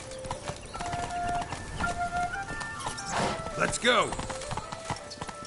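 Roach, a horse in the video game The Witcher 3, gallops with rapid rhythmic hoofbeats and lets out a whinny, while someone talks and shouts over the game sounds.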